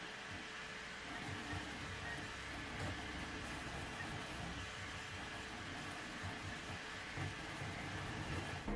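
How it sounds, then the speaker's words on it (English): Anycubic Kobra 2 Pro 3D printer running, giving a steady, faint whir and hum of stepper motors and fans with soft mechanical rattling, continuous and even throughout. "but the printer itself sounds like this when working."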